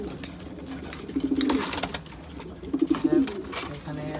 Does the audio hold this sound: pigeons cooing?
yes